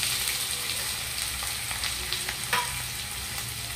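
Chopped onions stirred as they fry in a pan for an aloo gobhi sabzi, a steady close sizzle with light scraping from the spoon and one brief clink, no talking.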